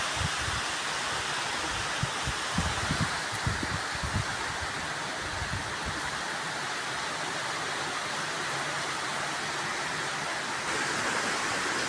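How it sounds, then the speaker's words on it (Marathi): Strong monsoon wind gusts through trees in a Konkan village during rain, a loud steady roar of rushing air and thrashing leaves with no pauses throughout. "किती वारा सुटलाय"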